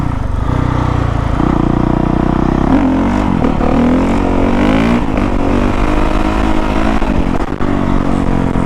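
A 2019 Honda CRF450R dirt bike pulling away in first gear, its loud, close engine droning steadily, then rising and falling in pitch as the throttle is worked, with no talk.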